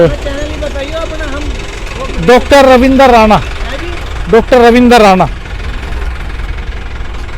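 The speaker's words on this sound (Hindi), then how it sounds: "इस तरह से ट्रैक्टर ट्रॉलियों में गन्ना लाया जा रहा है।" A tractor engine idles steadily with its trolley loaded with sugarcane, a low constant rumble running beneath someone speaking loudly and close to the microphone.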